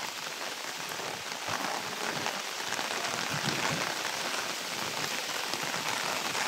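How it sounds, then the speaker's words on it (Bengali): Heavy village rain driven by wind hammers down in a dense, steady roar, loud and unbroken throughout with no voices. "এবছরে এত বৃষ্টি হচ্ছে"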